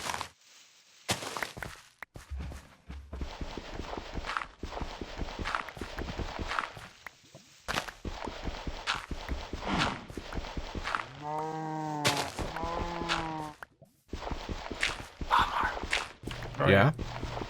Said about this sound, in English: I can't tell if this is a fast horse